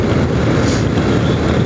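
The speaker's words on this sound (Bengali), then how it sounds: "পাহাড়ে বাইক নিয়ে উঠছি" A motorbike climbs a mountain road toward Gangtok in Sikkim with a pillion rider, its engine a steady, loud roar blended with heavy wind rush, unbroken throughout with no speech.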